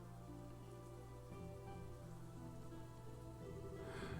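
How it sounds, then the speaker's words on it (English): Steady rain in the video game Trails in the Sky the 3rd patters on surfaces, a dense even hiss over a low sustained hum, constant throughout. "Rain."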